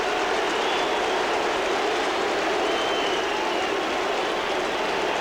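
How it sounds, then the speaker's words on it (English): A stadium crowd roars at a 1990 Raiders at Seahawks football game, a dense, continuous wash of cheering that stays loud and even throughout with no breaks. "listen to the crowd"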